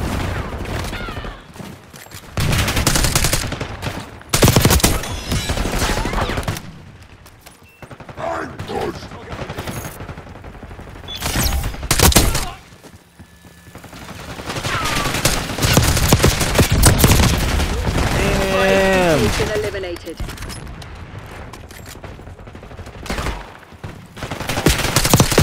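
Sustained gunfire and fusillades in the video game Babylon during a beta match, dense bursts and shots rolling through most of the stretch, with radio-style game voices and some talk mixed in.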